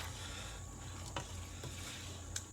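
A spoon stirs chili in a pot with diced tomatoes simmering. A faint, steady sizzle runs throughout, broken by a few soft scrapes and clicks against the pot.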